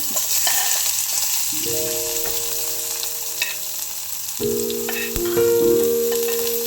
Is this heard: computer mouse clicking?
no